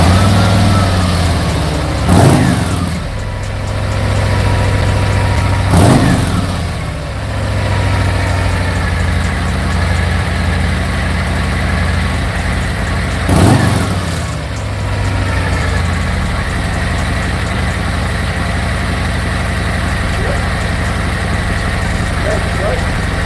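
A Harley-Davidson Street Glide engine runs at a steady idle with a deep, continuous rumble, pierced by three short rev blips spaced several seconds apart.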